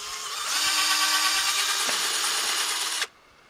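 A power drill bores a tap hole into a maple tree, a close whirring grind that spins up, holds steady for about two and a half seconds, then cuts off abruptly.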